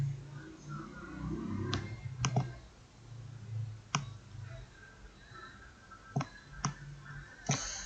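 Several crisp, quiet computer mouse clicks sound singly and in quick pairs over a faint background hum, with no talking.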